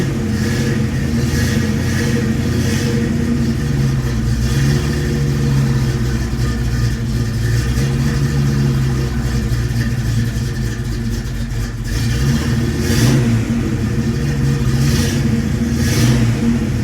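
Cold engine of a Ford SVO T-top coupe idles and revs gently, with a loud, steady, close drone and only mild swells in pitch, with no talk.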